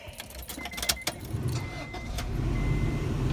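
Keys jangle, then an Acura Integra with a swapped K20 engine cranks and starts, settling into a steady low idle nearby.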